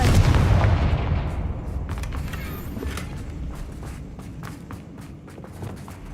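Confringo fire spell blasts in Hogwarts Legacy, a loud booming explosion at the start decaying into rumbling debris, followed by scattered footsteps and light impacts.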